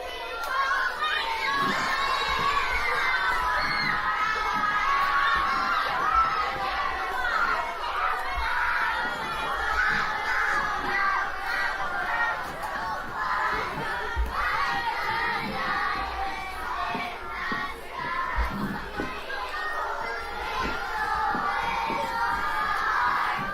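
A crowd cheers and shouts loudly during a dance team's routine, high excited voices, many of them children's, forming a dense, continuous roar that swells and dips over about twenty seconds.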